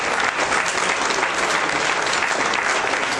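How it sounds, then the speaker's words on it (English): Dense, steady applause from an indoor crowd at a get-out-the-vote rally, many hands clapping at even loudness throughout. "let's clap for him anyway"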